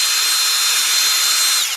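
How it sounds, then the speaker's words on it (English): Power drill running in an engine workshop beside a Mopar twin-turbo big-block engine, a loud, steady high-pitched whine that holds at constant speed, then cuts off abruptly at the end. "y'all probably can't hear me with the drill"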